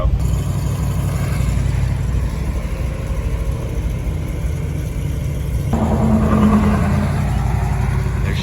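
A Dodge truck pulls away with a continuous low engine rumble that stays fairly loud, gains a brighter revving tone partway through, and runs on steadily.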